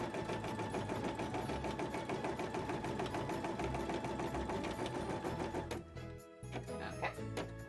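A sewing machine runs continuous embroidery stitching on a cosplay piece, a fast even mechanical whir close up, briefly pausing near the end before starting again.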